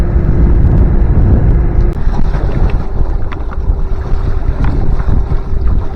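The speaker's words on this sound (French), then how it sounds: "vous l'avez entendu, on est encore au moteur" A sailboat motoring at sea in flat calm with no wind, its engine giving a loud, steady low drone with a faint constant hum, wind buffeting the microphone throughout.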